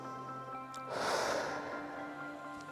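A single deep breath drawn during a workout stretch, a soft inhale swelling into a fuller, airy exhale near the middle, close and fairly quiet over faint background music.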